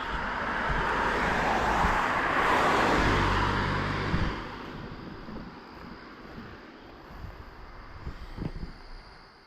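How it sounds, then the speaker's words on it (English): A car drives past at night on a road in Maine, its tyre roar building to a loud swell and then fading away, followed by quieter traffic noise and light wind from a second vehicle. "I hear a car coming behind me, and there's one coming towards me"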